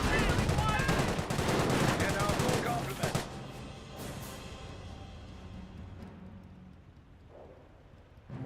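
Mortar shell strikes on grenadier infantry in the Company of Heroes strategy game: dense crackling gunfire and explosions for about three seconds, then a fading rumble and low battle ambience.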